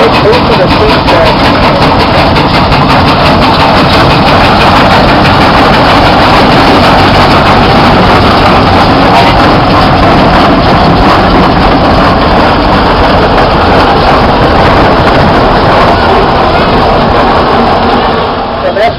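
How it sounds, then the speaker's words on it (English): A 28 horsepower Minneapolis steam tractor runs at a harvest reunion show, a loud, steady low rumble that holds unbroken throughout with no clear speech over it. "28 horsepower Minneapolis."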